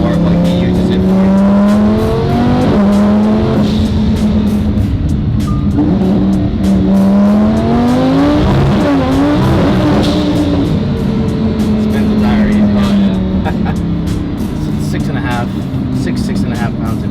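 Lamborghini Huracan fitted with a Sheepey Race Stage 2 turbo kit running about six and a half pounds of boost, its engine droning and rising in pitch through loud revs and pulls, with talk layered over the engine throughout.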